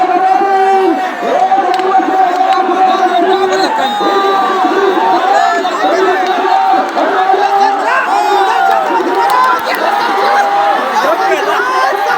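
Dense crowd cheering and whooping at a bullock cart race final in Kasegaon, a continuous loud roar of many voices with shouts rising over it throughout.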